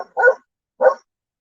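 A dog lets out two short, sharp barks about half a second apart, moderately close, with silence between and after them.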